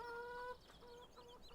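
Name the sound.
chickens clucking in video game Farming Simulator 17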